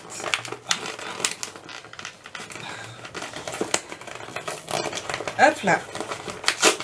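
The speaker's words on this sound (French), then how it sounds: "j'ai déchiré le carton, ça ira à la poubelle" A cardboard box being torn open by hand at home, giving short scattered ripping and crinkling noises close by, with someone talking over them.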